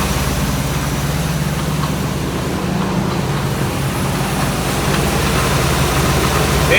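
A 1984 Chevy Blazer runs with its power steering low on fluid, giving a steady low engine drone with a faint whining hum underneath, heard up close without pause.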